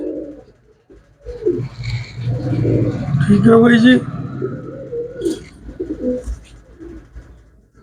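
Soft, low cooing from a pigeon rises through the middle, close by, mixed with people talking.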